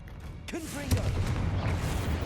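A Confringo fire spell in the Hogwarts Legacy video game goes off as a sudden loud blast about a second in, followed by a crackling, rumbling tail; a brief voice-like tone comes just before it.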